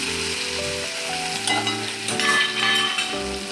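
Ginger-chili paste fries in an asafoetida tempering for cheese corn masala, a close, steady sizzle with a faint stirring scrape and a low hum beneath.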